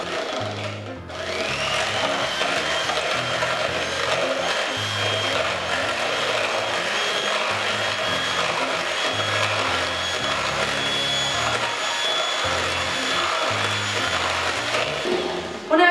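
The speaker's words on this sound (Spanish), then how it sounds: "Comenzamos batiendo las claras." An electric mixer whirs steadily as it beats egg whites in a bowl for meringue, with a constant high motor whine running throughout under low, shifting background music.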